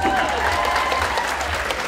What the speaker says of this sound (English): you can give them a nice round of applause